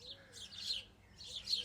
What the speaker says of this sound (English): Sparrows are chirping.